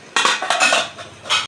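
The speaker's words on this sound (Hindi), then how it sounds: "ढक्कन से बंद कर दो।" A metal lid is set onto a pot of rice boiling on the stove, giving several close, sharp clanks and rattles of metal on metal over about a second and a half, with no talk.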